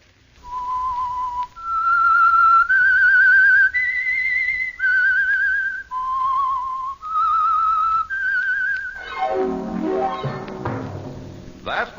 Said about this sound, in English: That whistle is your invitation to another mystery drama presented by The Whistler.